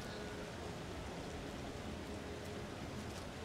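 Steady rain falls during an outdoor combined driving event with horse-drawn carriages in Kentucky, a constant broadband hiss of drops on surfaces with no pauses and no voices.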